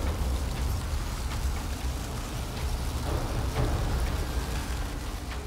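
Dense, steady patter like hail or heavy rain drumming from the Hailstorm spell in the Divinity: Original Sin 2 video game, a continuous loud wash with a few sharper impacts and no pauses.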